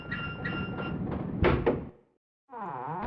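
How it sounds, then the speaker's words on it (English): A wheel-operated door opening in Tomb Raider 2, a loud grinding metallic scrape with heavy clunks, a brief silence, then a rising mechanical squeal as the door moves. "Now we can finally open this thing and go through here because the door's open."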